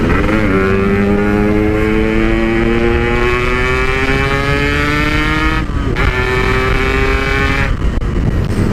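A motorcycle fitted with a PK1 aftermarket exhaust speeds along a road, its loud, steady engine drone rising in pitch as it accelerates, with a brief dip near the end.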